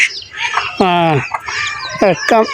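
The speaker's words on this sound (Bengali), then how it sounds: "বাড়িতে হাঁস মুরগি আছে" Domestic chickens kept at a rural home with ducks let out several loud, close clucks and squawks in quick bursts, with a little talk in between.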